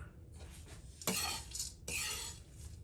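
Makhana and melon seeds roast in flour with a little ghee in a pan, giving soft scraping stirs and two louder bursts of spoon scraping against the metal with a faint sizzle underneath.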